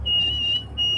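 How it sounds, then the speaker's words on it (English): A skid steer's maintenance-due alarm beeps loudly in two long high-pitched tones separated by a short gap, over a low engine idle rumble. "it beeps really loud and it says next maintenance due in"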